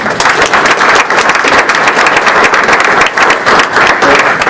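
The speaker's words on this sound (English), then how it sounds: "Can we give a round of applause?" A round of applause from a crowd at a Philadelphia World Heritage City event, dense and loud, with continuous overlapping claps that hold at an even level throughout.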